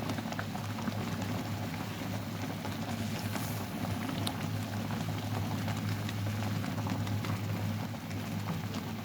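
Raw mango murabba syrup boils gently in a pot as a faint, steady bubbling with a low background hum, quiet and unbroken, with no voices.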